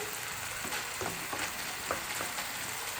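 Spice paste with ground onion sizzling and being stirred in a pan for prawn bhuna, a steady close frying hiss with soft scraping strokes of the spoon, no talk.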